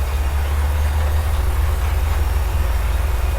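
A tractor pulling a sower in Farming Simulator 2017 drones with a steady low engine rumble, loud and continuous with no talk over it.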